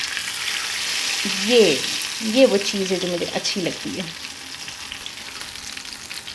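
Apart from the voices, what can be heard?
garlic tempering sizzling in hot oil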